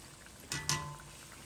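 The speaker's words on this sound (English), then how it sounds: "So we need to let them fry for just a few more seconds." Glazed donuts frying in a pot of hot oil, a quiet steady bubbling with two brief louder crackling bursts in the middle.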